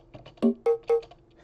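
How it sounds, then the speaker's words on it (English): Three dry bongo hits from a Genesis Strike Kira orchestral percussion pack, with no effects, struck one after another at a moderate pace after a few soft taps; each is a short, resonant, pitched tone, close and clear. "the bongos, so these two."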